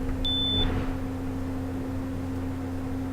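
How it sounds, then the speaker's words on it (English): A single short electronic beep from a password keypad in the video game Resident Evil HD Remaster, sounding once, clear and high over a steady low hum, with no voices. "Is that a beep of correctness?"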